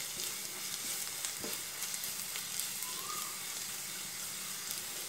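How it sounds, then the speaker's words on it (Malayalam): Spice powders fry in oil in a pan for an egg roast curry, making a steady, close crackling sizzle that runs without a break, with a few soft stirring scrapes. "ഇത് 1 മിനിറ്റ് ഒന്ന് പൊടികളൊക്കെ നന്നായിട്ട് മൂക്കാനായിട്ട് വയ്ക്കും"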